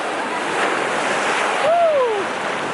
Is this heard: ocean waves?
yes